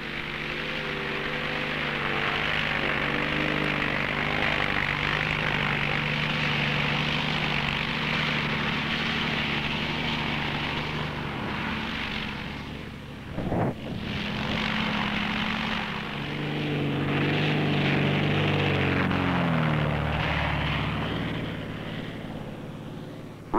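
A propeller airplane flies a cloud-seeding run, its steady engine drone holding loud and continuous for the whole stretch, easing slightly in the middle before swelling again as it passes overhead.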